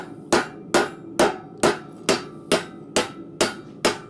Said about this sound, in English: just kind of using the weight of my 3-pound rounding hammer on the rounding side to actually shape this